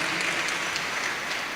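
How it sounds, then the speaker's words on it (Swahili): A church congregation at a Kikuyu service applauds, steady dense clapping that is moderately loud and continuous, with no voices standing out. "Tumpigie makofi tafadhali"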